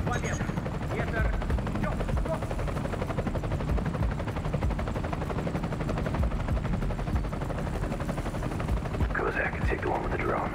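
A helicopter's steady thrumming rotor fills the scene in the Ghost Recon Future Soldier video game, loud and constant throughout, with battle sounds and voices faintly mixed beneath it.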